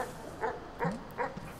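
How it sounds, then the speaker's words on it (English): A dog in the video game Animal Well gives three quick, clipped barks in an even rhythm, each one a short bright yap at moderate volume over a soft game background. "He just like keeps barking at that hole."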